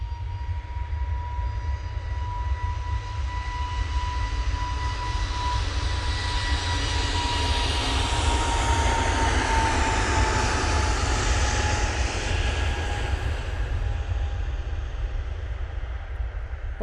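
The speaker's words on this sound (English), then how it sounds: "Jet2 now on the roll." A Jet2 airliner rolls for takeoff at Manchester Airport, its jet engines building to a loud, steady roar with a whining tone that swells and then holds, heard alone without talk.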